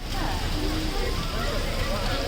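Steady rain at an early-morning arrival after an overnight trip, a dense even hiss with muffled voices talking faintly underneath.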